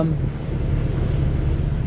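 A sailing boat's engine running at sea off the Turkish coast near Fethiye: a steady, loud low drone with wind and water noise and no talk.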